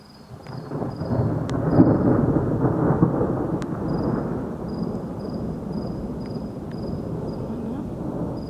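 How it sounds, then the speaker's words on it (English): Thunder from a severe lightning storm in Dubai swells into a long rolling rumble that peaks early and then slowly fades, with steady rain hiss and a faint insect-like whine running throughout. "This storm means business."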